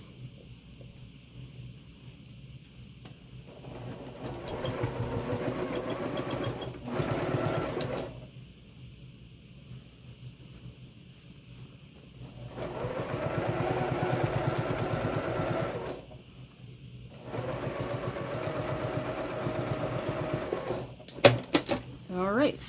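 A sewing machine stitches a small zipper bag in three steady runs of close, mechanical whirring, with a quiet pause between each run and faint talk in the gaps.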